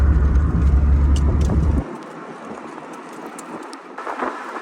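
A 1989 Chrysler LeBaron GTC turbo engine roars loudly and close, then abruptly drops off to a softer whooshing turbo hiss with a brief flutter near the end.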